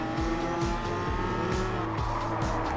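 A Porsche 911 races in Gran Turismo Sport at Circuit de Barcelona-Catalunya in an N500 Nations Cup race. The engine drones loudly and steadily while tires squeal and skid, with no talk.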